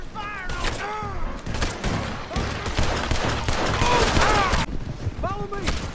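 Gunfire crackles in Red Dead Redemption 2: a loud, dense fusillade of overlapping shots that keeps going across the whole passage, with shouting voices mixed in among the blasts.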